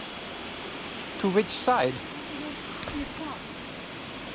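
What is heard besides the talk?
Berkelah waterfall flowing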